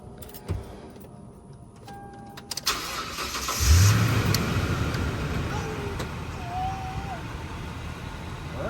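A Toyota Tundra pickup truck's engine cranks and catches, then settles into a steady idle that continues to the end, with a few faint clicks and a high tone alongside.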